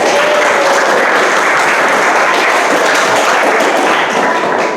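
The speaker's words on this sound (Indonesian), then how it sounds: "Bagus sekali, tepuk tangan." A classroom of students claps loudly and continuously in a dense, steady round of applause, with scattered thumps and taps mixed in.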